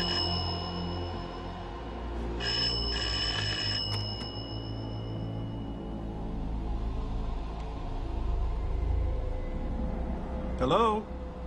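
A bright electronic telephone ring chirps in a couple of short bursts early on over a low rumbling background in a haunted mansion, with a brief voice near the end.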